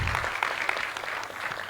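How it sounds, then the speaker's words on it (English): Applause from an audience at a national youth symposium on public debt, a steady dense patter of clapping at moderate volume, continuing throughout without voices. "Another round of applause for him"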